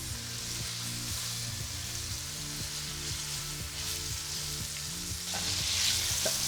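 Sausage browns in a hot pan with a bright, steady crackling sizzle, broken by repeated scraping and tapping as a utensil works the pan bottom, growing louder near the end.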